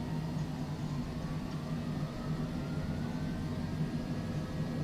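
Cessna Longitude C700 business jet taxiing at Geneva in Microsoft Flight Simulator, a steady low engine hum and rumble with no talk, even and moderate throughout.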